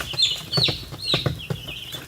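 Short, soft clucks from a chicken repeat in uneven bursts over a low background rustle, fairly close.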